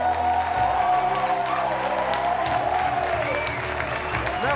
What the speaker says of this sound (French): Hey, applaudissez fort encore.